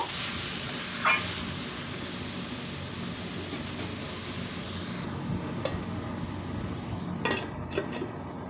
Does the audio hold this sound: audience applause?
no